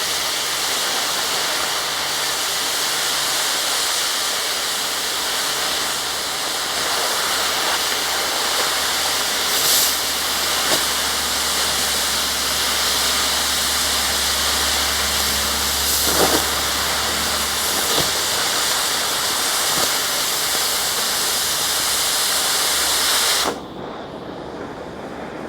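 A water spray washes slag out, a loud continuous rushing hiss close by that holds steady for over twenty seconds and then cuts off abruptly.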